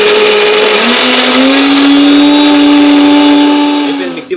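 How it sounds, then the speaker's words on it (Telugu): A mixer grinder whirs at full speed grinding drumstick leaf powder with salt and turmeric, a loud close steady whine that holds its pitch, then winds down and stops near the end. "ఇప్పుడు మళ్ళీ మిక్సీ పట్టి"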